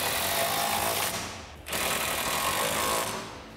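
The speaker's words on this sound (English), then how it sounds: "grab your 13 socket and tighten down the two bolts on the sway bar on both sides." A power tool with a 13 mm socket whirs loudly and continuously as it tightens sway bar bolts on a 1979-2004 Mustang during a rear control arm install, with a short dip in the middle before it resumes.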